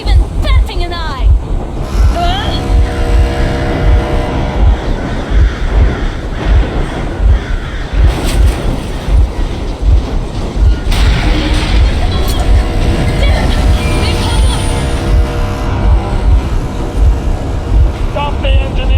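A vehicle engine runs in the video game Metro, a loud, rumbling low drone with rattling, train-like clatter, heard under intermittent talking.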